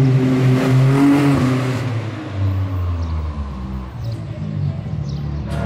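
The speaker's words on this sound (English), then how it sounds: "he's going to launch the race car into the tunnel" Gymkhana race car engine roaring as it accelerates toward a tunnel, loud at first then the pitch drops and the sound fades into the distance, with faint chirps over it.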